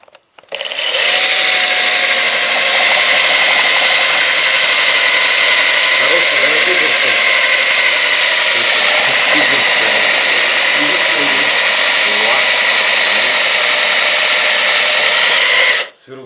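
A rotary hammer drills into crockery with a loud, steady grinding roar that runs unbroken for about fifteen seconds, close to the microphone, with faint voices in the background.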